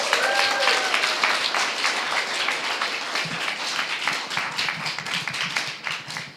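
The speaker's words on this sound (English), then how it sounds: "A round of applause, please." Audience at a startup pitch session applauding, a dense steady round of clapping that carries through and tapers at the end, with a brief tone near the start.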